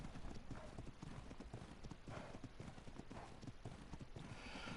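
Horse hooves clip-clop in a steady walking rhythm in the Ark Ragnarok video game, close and continuous for several seconds, with faint talk in the background.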